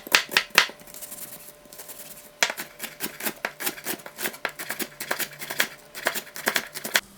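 Knife finely chopping a peeled onion on a board, a quick run of close, crisp cuts that pauses briefly and then resumes in a steady rapid rhythm.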